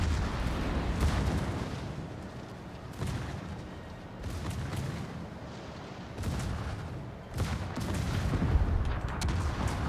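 Battleship broadside gunfire in World of Warships, with the Kremlin among the ships: heavy booming salvos roll out in several separate bursts, each trailing into a low rumbling wash before the next volley.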